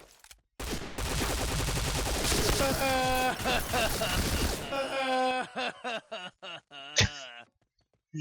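Gunfire in the video game Point Blank: a dense, loud burst of rapid shots over music and a talking voice, then scattered single shots with one sharp crack near the end.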